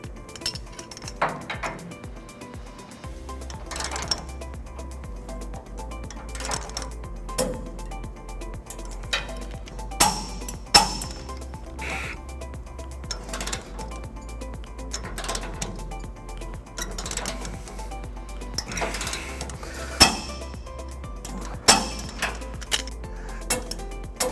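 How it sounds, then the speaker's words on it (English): Socket wrench turning trailer hitch bolts on a 1988-1999 GMC Sierra 1500, with repeated sharp metallic clicks and clinks at close range over a steady low hum, no talking. "Now to torque all of them, we're going to be using a 19mm socket"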